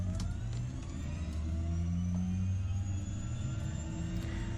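A Porter engine runs with a steady low rumble and hum after the ignition is switched on, constant and fairly close, with no voices.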